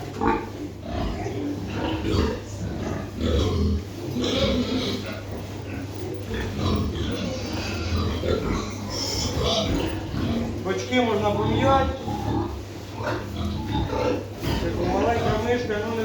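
Pigs grunt and oink repeatedly close by, a busy overlapping chorus under ongoing talk from a man.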